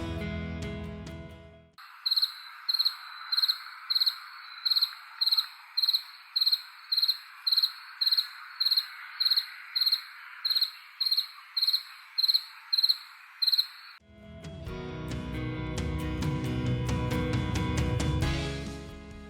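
Crickets chirp by drawing the scraper of one raised wing across the file of the other, giving a steady series of about eighteen evenly spaced bright pulses over a quiet background, ending abruptly as a busier, denser sound takes over.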